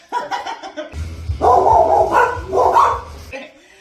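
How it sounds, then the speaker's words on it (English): A dog barks loudly and repeatedly in short bursts, close by, with a person speaking just before and a low rumble underneath. "I will insert Macy's bark"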